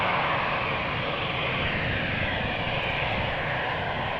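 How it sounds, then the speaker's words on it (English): A British Airways Embraer jet lined up for departure at Amsterdam Schiphol's Polderbaan gives off a loud, steady engine roar, broad and unbroken, with no voices over it. "Embraer lined up."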